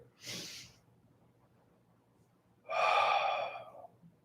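A person breathes during a seated spinal twist stretch, with two distinct, close breathy exhalations separated by a quiet pause and no talking.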